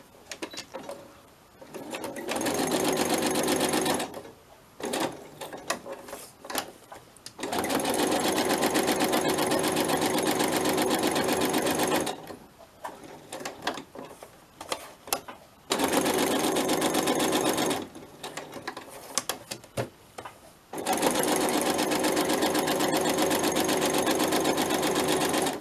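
A sewing machine stitches onto a paper craft envelope, running in steady buzzing bursts of a few seconds each, separated by short pauses, close and clear with no talking.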